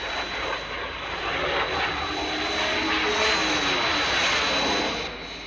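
An airplane engine drones steadily in flight, loud and close, with a continuous roar that rises gently mid-way and fades slightly at the end.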